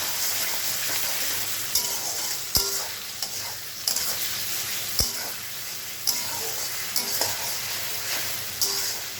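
Potatoes fry in a pan for egg chowmein, stirred steadily with a spoon that taps and scrapes the pan over a constant sizzle.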